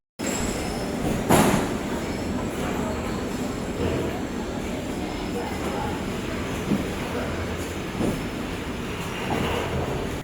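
A MEMU passenger train rolls into Ernakulam Junction with a continuous rumble, occasional wheel squeals and soft clanks. The station ambience is steady and moderately loud.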